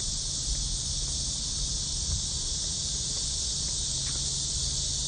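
Cicadas on a summer neighborhood walk in Songdo, Korea, keep up a steady, high, buzzing drone throughout, moderately loud and unbroken.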